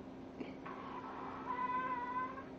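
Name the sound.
pug puppy making a weird noise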